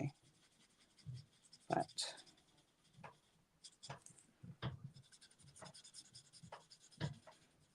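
Coloring on paper with a pencil, soft irregular scratchy strokes in close, quiet bursts, with a brief spoken word in between.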